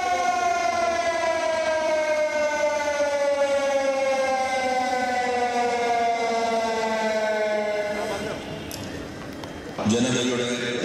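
Civil defense siren wailing loudly and steadily for a human chain protest over the Mullaperiyar dam in Kerala, its tone slowly falling before it cuts off near the end, followed by a brief burst of noise.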